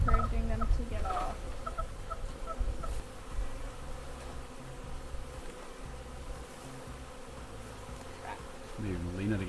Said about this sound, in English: Holy bees. So many bees.